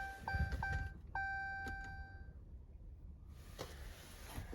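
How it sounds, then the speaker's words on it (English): A steady electronic car warning beep chimes a few times in quick succession, then falls silent, with faint rustling afterward, in a salvage yard. "that beeping is annoying"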